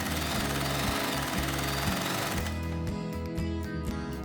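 A sewing machine runs steadily while stitching a fabric face mask with a filter pocket, its rapid mechanical chatter continuous and close throughout, with a tonal background layer alongside.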